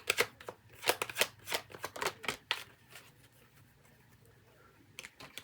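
Tarot cards being shuffled and drawn for a reading, heard as a run of close, crisp riffling snaps and flicks that thin out into quieter handling before a final couple of taps.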